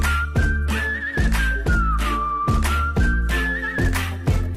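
Whistled melody over a punchy beat in a song teaser, a clear sustained whistle with slight vibrato riding above steady thumping drums.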